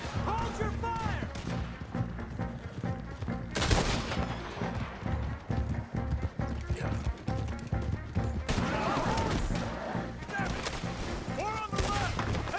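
Gunfire from a Red Dead Redemption 2 shootout, dense and continuous with repeated loud shots and bursts throughout, mixed with shouting voices and game music.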